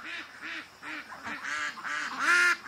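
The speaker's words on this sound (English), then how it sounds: "I saw the ducks freaking out" Ducks on a creek quack in alarm, a rapid series of loud, harsh, honking calls close by, several overlapping and growing more insistent toward the end.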